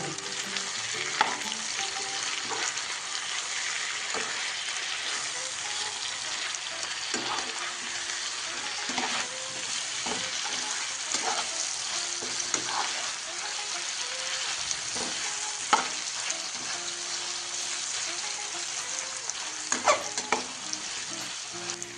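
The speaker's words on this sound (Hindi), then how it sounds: "चिकन और प्याज अच्छे से फ्राई हो गए। अब हम टमाटर डालेंगे। अब मिक्स कर लेंगे।" Chicken, onions and tomatoes fry in a pan for Kashmiri chicken kanti, with a steady loud sizzle broken by frequent scraping stirs of a spoon.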